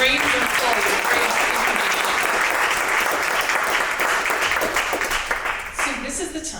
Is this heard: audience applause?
yes